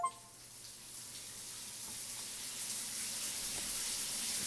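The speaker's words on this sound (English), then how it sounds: "Steam and suds fill my vision as a pleasant torrent of hot water sprays across my body." Hot water sprays steadily from a shower against tiled walls, a soft continuous hiss that slowly swells, heard alone without talk.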